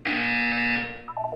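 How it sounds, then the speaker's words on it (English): A loud electronic buzzer from the video game Portal 2 sounds as one steady harsh tone for nearly a second, then breaks into a few shorter pulsing beeps. "You will hear a buzzer."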